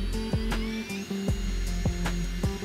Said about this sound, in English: I'm back at it with the power tools.